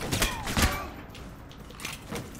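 Gunfire from the video game Alpha Protocol: a couple of sharp shots near the start, then softer, scattered bursts of a firefight further back.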